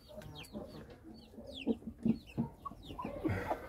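An old hen clucks repeatedly on a small farm, with several short, close clucks and other fowl calling around her.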